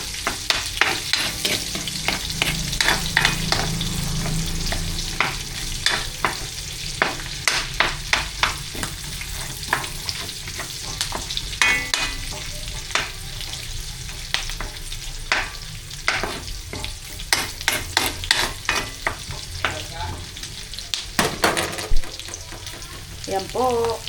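Chopped onion sizzles in hot oil as it is sautéed for Filipino pakbet, with a steady crackling fry broken by repeated sharp scrapes and clinks of a spatula stirring the pan, close and mostly free of talk.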